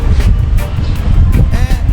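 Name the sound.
wind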